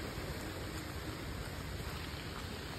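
Heavy monsoon rain over farm fields, a dense, even, hissing wash of downpour with no voices, cutting off abruptly at the end.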